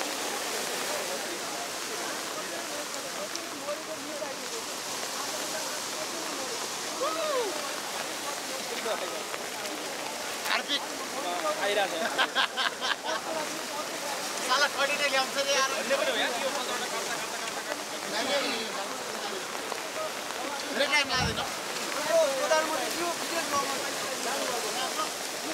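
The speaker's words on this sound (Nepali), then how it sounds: "खोलाले निकै रफ्तारका साथ खोला बगिराखेको छ" A flooded river rushes fast near the UN Park area between Kathmandu and Lalitpur, a dense, steady roar of churning water that stays loud and continuous throughout.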